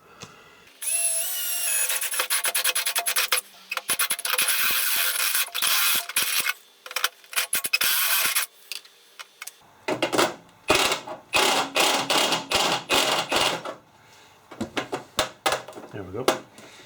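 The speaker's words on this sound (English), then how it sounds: "what I need to do is to drill a hole through about there" Power drill boring a hole near the battery modules of a home-built electric car conversion, running in bursts with stops and restarts, close and loud, with some talking in between.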